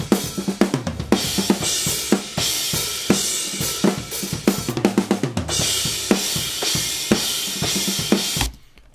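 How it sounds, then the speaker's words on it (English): A full drum kit is picked up by a pair of small diaphragm condenser overhead mics, playing a busy, driving groove with dense cymbal wash over punchy kick and snare hits before an abrupt stop. "these are the SE5s. Yeah, the small diaphragm condensers"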